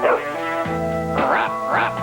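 A dog barks in a TV commercial aired during a 2000 NLCS baseball broadcast, a few yips and woofs spread across about two seconds over steady voices and music.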